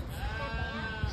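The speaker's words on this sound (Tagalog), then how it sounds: "Meron din yung mga kambing." A goat at a Japanese farm park gives a single wavering bleat, close and moderately loud, lasting about a second against faint background noise.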